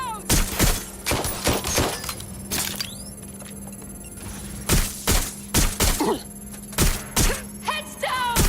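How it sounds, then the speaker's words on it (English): Gunfire bursts and sharp cracks with a heavy blast from a grenade in the video game Watch Dogs Legion, loud and repeated in uneven clusters while voices shout between them. "Grenade is out!"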